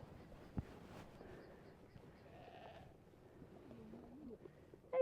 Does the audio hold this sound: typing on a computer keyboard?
no